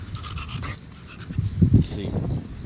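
A dog pants in quick, breathy bursts close by, fairly soft, with some background noise and a rise in loudness toward the end.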